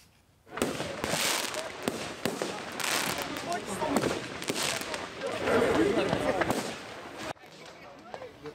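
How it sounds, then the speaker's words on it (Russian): Fireworks stored inside a burning private house in the Dutch town of Wierden explode at night, with a dense, continuous barrage of crackling bangs and pops. A voice speaks over the blasts. "Жители голландского городка Визеп посреди ночи неожиданно разбудил фейерверк"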